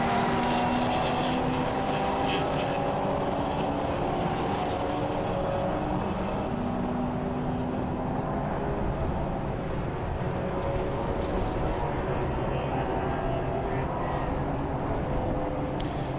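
Race cars lapping at Silverstone, engines droning at a distance in a steady wash of sound, with no talk over it.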